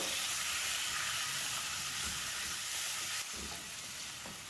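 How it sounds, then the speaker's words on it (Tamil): Onions and tomatoes sauté in a pan for restaurant-style chicken chops, giving a steady, loud sizzle and hiss that runs throughout, with faint stirring clatter and no talk. "வெங்காயம் தக்காளி எல்லாமே சேர்ந்து இதுக்கு வதங்கி வந்துடும்"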